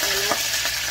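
Two bay leaves dropped into hot oil, giving a brief soft sizzle with a quick stirring scrape.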